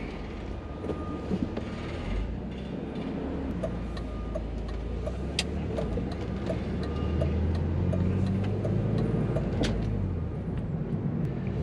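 A BMW Z3 with a manual transmission cruising on backroads, heard from inside the cabin as a steady low engine and road drone with faint ticking and rattles, at a moderate level and with no talk.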